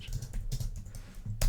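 Quick, uneven clacking of fingers typing on a computer keyboard, close up, with a louder keystroke near the end.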